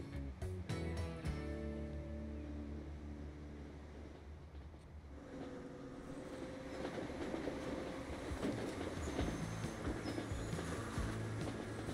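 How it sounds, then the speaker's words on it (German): A train pulls into a station in Transport Fever 2, its rolling rumble and wheel clatter steady and fairly loud, with a few sharp clanks near the start, under a brief tonal hum. "Der Zug kommt jetzt an"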